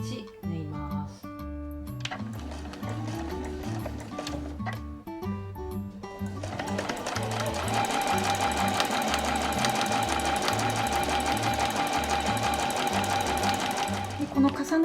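A sewing machine stitches around the edge of a flat A4 tote bag. The first seconds carry stop-start runs of stitching, then a fast, steady, continuous whir follows, close and clear.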